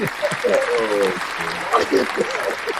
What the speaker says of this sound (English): hit the round of applause.